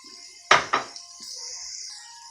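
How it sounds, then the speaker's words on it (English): Rice tipped into a pot where ginger and baby carrots are browning, two quick sharp clattering hits close by, then a soft continuous sizzle, with no voices. "Adding the rice to it."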